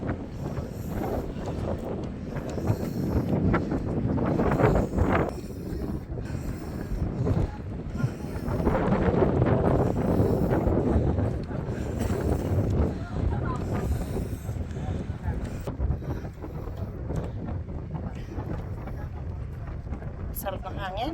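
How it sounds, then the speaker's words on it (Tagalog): Strong wind buffeting the microphone on a mountain summit by a flag and monastery, a loud continuous rumbling roar that swells and eases in gusts, with a person talking under it. "Sarap ng hangin."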